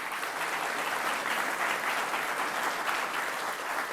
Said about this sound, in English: You may now clap for the candidates.